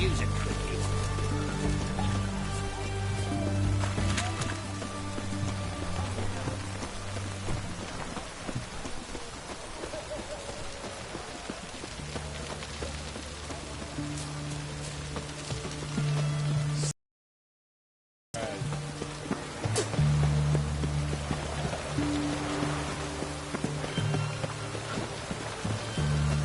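Rain pours steadily in The Witcher 3: Wild Hunt, a dense hiss of drops spattering surfaces with low rumbling game ambience beneath, broken by a brief silent gap near the end.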